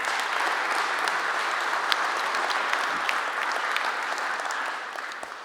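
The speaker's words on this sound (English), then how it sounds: "let's give a round of applause to our panel" An audience claps steadily for several seconds, a dense wash of many hands that tapers off slightly toward the end.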